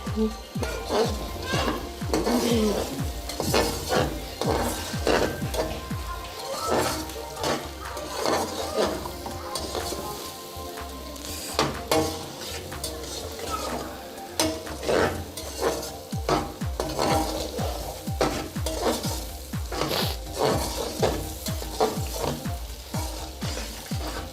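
Vegetables for egg fried rice stir-fry in a hot pan, with loud continuous sizzling cut by rhythmic scrapes and clanks of a spatula against metal, heard close and without voices.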